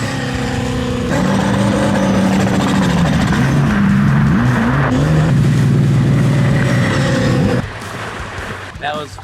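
LS V8 turbocharged jet ski engine revving hard up to a 4,200 RPM red line, a loud close droning roar with rising and wavering pitch for about seven seconds before it drops back to a rough idle.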